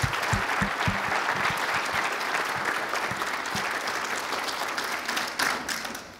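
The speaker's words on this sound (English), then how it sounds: "Let's give him a round of applause again." Sustained applause from a church congregation honoring a graduating student of the class of 2022, dense steady clapping throughout with a few sharper nearby claps, fading slightly toward the end.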